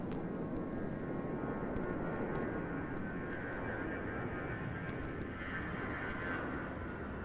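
A fixed-wing airliner departing Raleigh-Durham International Airport gives a loud, sustained engine roar for the whole stretch, broad and rumbling with a faint whine, heard from nearby outdoors with no talking.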